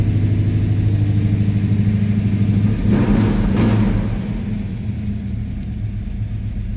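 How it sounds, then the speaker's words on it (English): A 1971 Dodge Charger with a 383 Magnum V8 idles with a deep, loud rumble, then a quick throttle blip swells the engine note before it settles back to a lower, steady idle. "Give a throttle a little blip."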